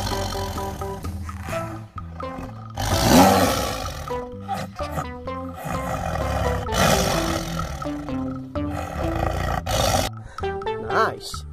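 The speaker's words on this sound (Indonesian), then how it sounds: "Wehehe, lihat, di sini ada harimau." A tiger roars loudly in a lively animal-finding scene, the roar rising strongly around the third second and recurring amid bright, busy music and sound effects, with a playful voice chattering throughout.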